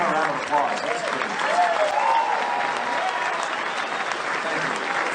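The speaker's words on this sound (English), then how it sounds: "give him a round of applause" Audience at a political rally in Wilmington, NC gives sustained loud applause, a dense wash of clapping with some crowd voices mixed in.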